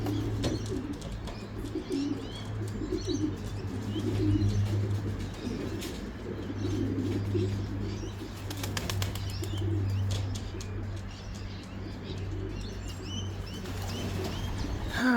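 Racing pigeons coming home from a 350 km race, landing with wings flapping and soft cooing, set against a steady low background hum, with scattered chirps and flutters running through the whole stretch.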